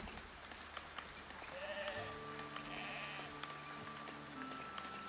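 Sheep on a farm in the city-building video game Foundation bleat in a drawn-out, moderately loud chorus over a steady ambient game soundscape with faint background chatter.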